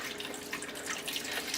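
A small amount of water pours steadily into a pot holding Yukon Gold potatoes, a soft, continuous faucet-like hiss and trickle heard alone at low level.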